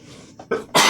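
A single short sneeze-like burst from a man, rising through a couple of quick breathy catches into one sharp loud expulsion at the end.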